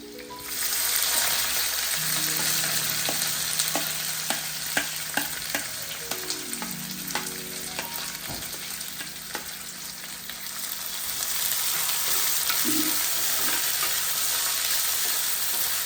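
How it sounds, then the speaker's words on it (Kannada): Onions hiss and crackle in hot oil in a pan while a spoon scrapes and taps them around, a close, steady sizzle with irregular clicks of stirring, while cooking a dry fish gravy. "ಇದು ಸ್ವಲ್ಪ ಫ್ರೈ ಆದಮೇಲೆ ಈರುಳ್ಳಿಯನ್ನ ಹಾಕ್ತಾ ಇದ್ದೀನಿ."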